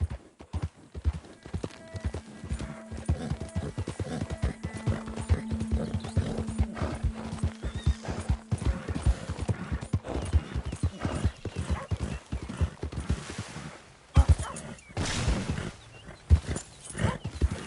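Horse hooves clip-clop steadily and close up in the video game Red Dead Redemption 2, a continuous rhythmic trotting with occasional snorts and a brief whinny, all without any talking.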